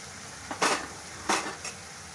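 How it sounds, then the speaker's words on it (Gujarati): Fried potatoes tipped into a pan for Punjabi dum aloo, giving two short, loud clattering bursts of pan and utensil contact, each with a smaller knock after it, over a faint steady background. "હવે એની અંદર આપણે બટાકા એડ કરી દઈશું, જે આપણે ફ્રાય કર્યા છે"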